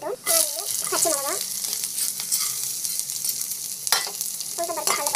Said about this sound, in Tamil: ஆயில் போட்டு நல்லா ஸோ எண்ணெய் வந்து நல்லா காஞ்சி பிறகு கடுகு சேர்க்கும்